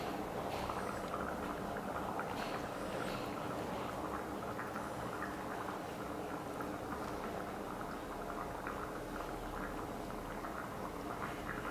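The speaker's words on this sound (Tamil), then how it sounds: "ரைஸ் போட்டு நல்லா கொதிக்க ஆரம்பிச்சிருச்சு" Chicken biryani rice boils in a pot, a fairly quiet, steady bubbling and churning of water that continues evenly throughout without any speech.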